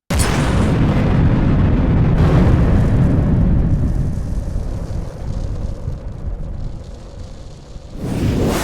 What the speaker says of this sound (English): The blazing weapon flies past the Hydra heads and impacts squarely upon the near wall opposite, exploding with massive eruption.